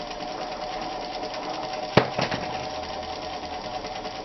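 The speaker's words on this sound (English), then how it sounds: "I really like this sewing machine." A sewing machine whirs steadily at close range, a continuous mechanical hum with a sharp clunk partway through before the stitching carries on.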